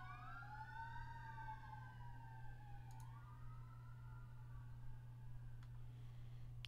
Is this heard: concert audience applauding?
no